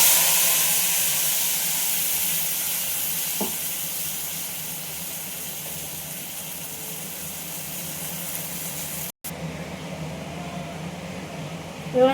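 Ground spice paste hits a hot pan for potoler dorma, stuffed pointed gourd curry, and sizzles in a loud, continuous close-up hiss with a brief dropout near the end.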